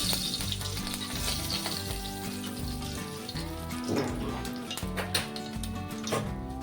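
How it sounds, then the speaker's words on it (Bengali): Pieces of katla fish fry in oil, a dense, continuous crackling sizzle heard close up, with a tonal background hum running underneath. "ওই তেলেই বাকি মাছগুলো আমি ভেজে নিচ্ছি"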